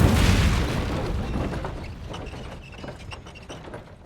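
An Incendio fire spell cast in the Hogwarts Legacy video game: a loud, booming burst that fades into a long, crackling rumble over a few seconds.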